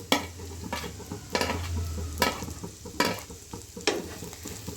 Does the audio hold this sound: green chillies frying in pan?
yes